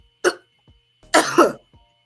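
A single sharp cough, then a pause and a longer, harsher double cough, close up with no talking.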